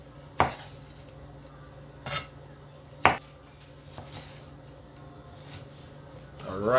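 Knife slices through red pepper on a cutting board in a home kitchen, with three sharp chops followed by a couple of softer cuts and a scrape at the end.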